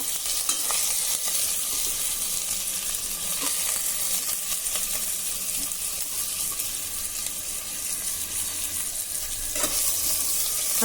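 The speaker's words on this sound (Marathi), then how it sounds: "आता मंद आचेवर 2 मिनिटांसाठी हे तांदूळ आपल्याला छान परतून घ्यायचे आहे." Washed rice sautéed on low heat in a pan for soft coconut rice made with jaggery gives off a steady, close hiss of sizzling with scraping stirring throughout and no talking.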